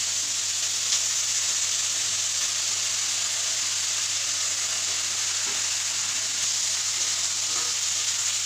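Potatoes sizzle and fry steadily in a pan, a continuous close hiss with small crackles and no talking.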